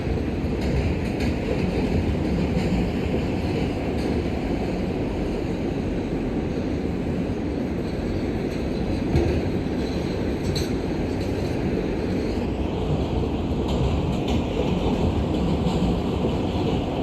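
An NYC Subway R142A train runs in the OpenBVE simulator, a continuous rumbling roll of wheels on track with faint squeals, steady and close throughout, no talk.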